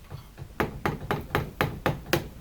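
A wooden handle scale is tapped onto a steel knife blade made from a leaf spring, giving six or seven sharp, evenly spaced hammer knocks, close and fairly quiet, with no talk.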